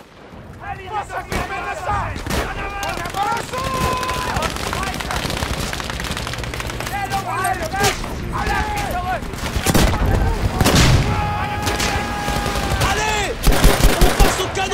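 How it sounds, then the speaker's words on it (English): Rolling artillery barrage in the video game Battlefield V, heavy booms and crackling blasts filling the whole stretch, growing louder toward the end, with a player talking over the bombardment. "just gonna get randomly shot by like artillery barrage"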